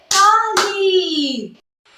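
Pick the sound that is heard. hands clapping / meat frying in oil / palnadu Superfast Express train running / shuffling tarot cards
hands clapping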